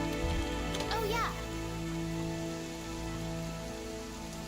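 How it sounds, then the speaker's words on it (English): Rain falls steadily in the video game Monster Hunter World, a constant close hiss with faint tonal game music and a brief sweeping chime early on. "Also, of course it's raining."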